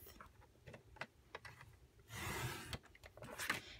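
A paper trimmer slices through cardstock in one rasping stroke of under a second, set among faint handling clicks and rustles at close range.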